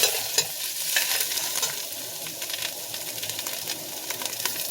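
Rehydrated dried mushrooms fry in a pot for a vegetarian curry, giving a dense, continuous sizzle with crackles and the scrape of stirring, fairly close and with no talking.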